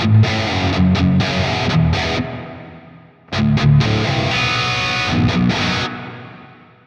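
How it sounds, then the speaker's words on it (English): Distorted electric guitar chords played through a Fortin Nameless Suite X with its reverb tone turned to the left, two strummed bursts each followed by a warm, smooth decaying tail, loud and alone. "With the tone set to the left, we'll have a nice warm reverb tail."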